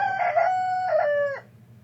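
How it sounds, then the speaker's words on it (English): A rooster sound effect used as a classroom break timer gives one clear, close cock-a-doodle-doo crow lasting just over a second, then fades into a faint low background hum. "That was the break rooster, or in this case the we are finished rooster."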